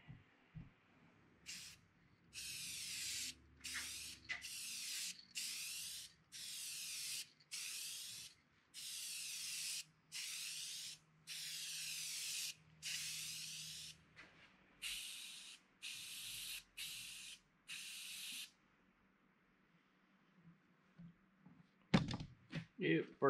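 Spray gun laying down a first coat on a sheet metal buffer box in a shop, a series of about a dozen loud, even hissing bursts, each a second or so long, separated by short pauses.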